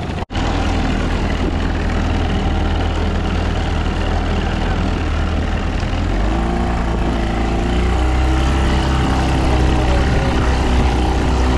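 A boat motor runs steadily on Leslie Lake at Leslie Dam near Warwick, Queensland, giving a continuous loud engine drone with a brief dropout near the start and a shift in pitch partway through.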